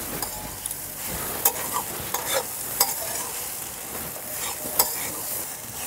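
Flattened rice with peas, sugar, garam masala and chopped coriander being stirred in a pan, with steady scraping strokes and soft sizzling throughout, and a few sharper spatula clicks.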